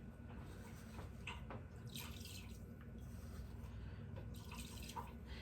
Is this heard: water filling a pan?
yes